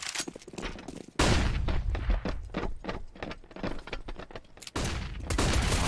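MAC-10 submachine guns fire during a Counter-Strike esports match, loud and dense: rapid overlapping bursts fill the stretch, drop briefly, then surge back in heavy volleys toward the end.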